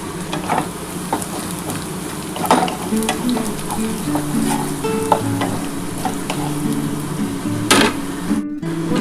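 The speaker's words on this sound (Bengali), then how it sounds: "চিকেন কষাতে কিন্তু একটু পিঁয়াজটা লাল করে ভাজতে হবে" Onions and spiced chicken fry together in a pan, a loud, crackling sizzle with frequent knocks and scrapes of a spatula stirring, close and continuous, with a brief dropout near the end.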